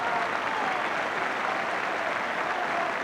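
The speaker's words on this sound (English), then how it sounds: "I think most of the applause is for the number 10" A football stadium crowd at a Spurs versus Manchester United match clapping, a dense, even wash of applause lasting the whole stretch, heard from a distance and fairly soft.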